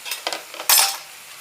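A utensil scrapes and clinks against a pan while stirring a Thai shrimp stir-fry with chili, a few light taps followed by one louder scrape, close by.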